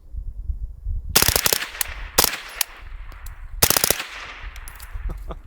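Pistol caliber carbine firing subsonic rounds outdoors into dirt: several quick bursts of sharp, fairly muted shots, each group of cracks followed by short pauses and faint impacts, with no voices.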